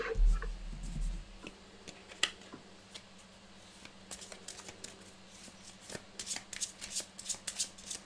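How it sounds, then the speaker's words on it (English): Cards from the 7th Continent board game are handled and shuffled on a table, with soft rustling at first and then a run of quick crisp riffle clicks, close up, with no one speaking. "go ahead and take those 2 cards and shuffle them back into the action deck"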